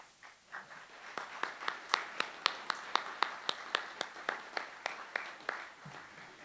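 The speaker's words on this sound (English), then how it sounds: "All those in favour, give an even louder round of applause, people." Rhythmic clapping at a public meeting opposing the privatisation of Lyttelton port, an even series of about twenty sharp claps that sounds like a small group in near unison, moderately close.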